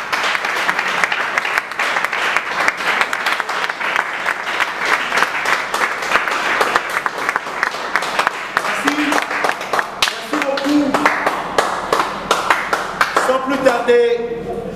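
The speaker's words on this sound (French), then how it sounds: "je vous prie d'applaudir cette manifestation très très fortement" Steady applause from an audience at a Congolese election-related ceremony, dense hand clapping sustained throughout at a loud, even level, with a voice or horn-like tones surfacing near the end.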